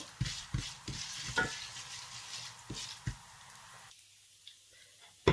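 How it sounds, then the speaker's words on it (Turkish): Vermicelli toasting in a pot for Turkish rice pilaf gives a soft, steady sizzle, broken by repeated sharp scrapes and taps of a spoon stirring against the pan, with a near-silent pause near the end. "Ben de biraz pembeleşene kadar kavuracağım inşallah şehriyelerim kavrulmaya başladı."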